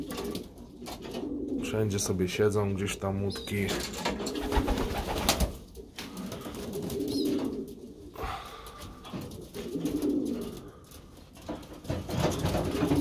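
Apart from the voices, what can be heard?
pigeons cooing in pigeon loft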